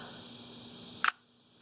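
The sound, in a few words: shutter of a Soviet film camera being pressed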